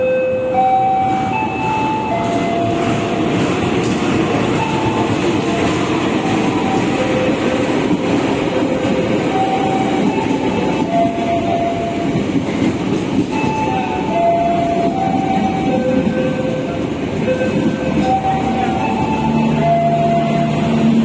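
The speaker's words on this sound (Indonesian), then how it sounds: "Kereta api Brantas sudah tersedia di jalur 1 stasiun Kediri" Brantas passenger train standing at Kediri station, a steady rumble of the train with tonal hums and whines from the engine and cars, continuous and fairly loud, with no talking.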